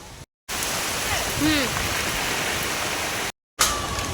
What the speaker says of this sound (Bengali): এখন আমরা ঝড়ের ভিতরে ভিডিও শুট করছি। মানে এই যে বৃষ্টি পড়ছে